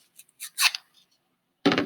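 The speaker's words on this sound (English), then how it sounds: "get your scissors, put it on top of your scissors, use your thumb to hold it, and gently pull through" Scissors drawn along a paper strip to curl it for a Christmas tree craft, a few soft short scraping swipes close by, followed by a louder rustle at the end.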